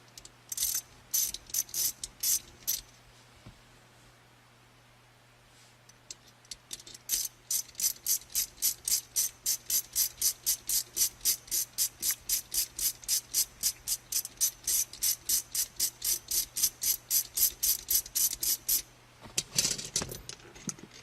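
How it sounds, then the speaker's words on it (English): A ratchet clicks rapidly and evenly while a part is unscrewed on a car shifter assembly during a Barton shifter install, with a few short bursts first, a pause, then a long steady run of close clicks. "So now we got to unscrew this all the way back out."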